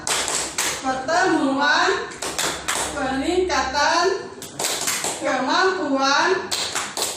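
A group of mothers claps together in a rhythmic patterned clap during a health and nutrition class, the sharp hand claps falling in repeated bursts under a woman's sing-song chanted speech.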